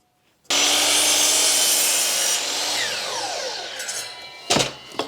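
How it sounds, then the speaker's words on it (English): A saw makes an angled parallelogram cut through a piece of wood for a shelf. It starts abruptly, runs loud and close for about four seconds, then winds down and ends in a few sharp clatters. "So we're gonna make another cut, same piece of wood, same angle, but it's gonna be a parallelogram."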